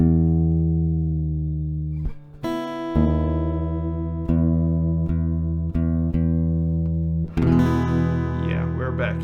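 Acoustic guitar held on steady ringing strings while being tuned back up, with a few sharp plucks and pitch shifts, close and fairly loud, with no talking.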